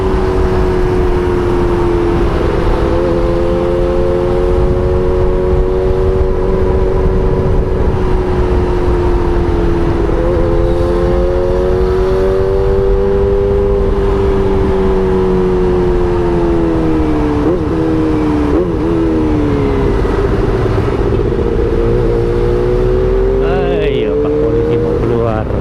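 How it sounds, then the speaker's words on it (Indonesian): Kawasaki ZX25R Streetwolf with an aftermarket ProSpeed Shark exhaust ridden on city roads, a loud steady engine drone with gear-shift dips and rising pitch sweeps, wind rush throughout. "knalpot saya tidak standar, tapi sebenarnya adem loh"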